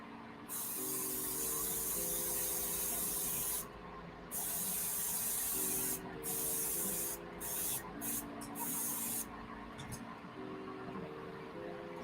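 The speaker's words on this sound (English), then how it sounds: "I'm doing like a sweeping motion with my airbrush" An airbrush sprays paint in sweeping up-and-down passes, giving bursts of airy hiss that start and stop several times, close up, over a soft tonal background.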